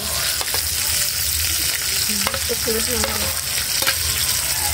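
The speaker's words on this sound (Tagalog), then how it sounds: "At ilagay na po natin itong kangkong po mga idol." Water spinach (kangkong) is stirred into a hot pot of shrimp sinigang, giving a close, continuous sizzling and bubbling with soft stirring scrapes and a few light clinks throughout.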